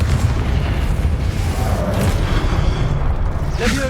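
A Confringo spell explosion in the Hogwarts Legacy video game: a loud, sustained booming blast with a deep rumbling low end over a few seconds, followed by a brief crackle near the end.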